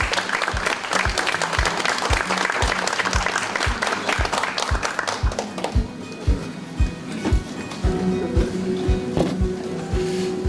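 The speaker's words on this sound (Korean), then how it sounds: "박수로 환영해 주시기 바랍니다." An audience at a book launch event in Korea applauds a former prime minister onto the stage, loud dense clapping with some rhythmic unison beats that thins out midway into scattered claps over room murmur.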